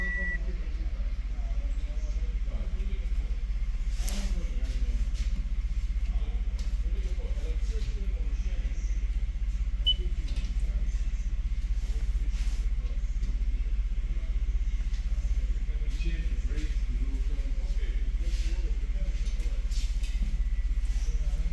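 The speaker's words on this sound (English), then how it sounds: "car engine is running." A 2015 Toyota Sienna's engine idles with a steady, low, continuous rumble, and a few faint higher beeps and tones sit over it. Background voices are present throughout.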